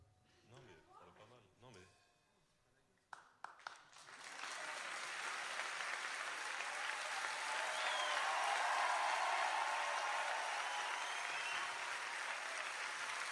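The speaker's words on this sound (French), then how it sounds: "Je suis sûr que je peux vous faire applaudir et crier beaucoup plus fort que ça." Concert audience at a show breaking into sustained applause and cheering that builds and stays loud for about ten seconds, after a few seconds of quieter talk and scattered sounds at the start.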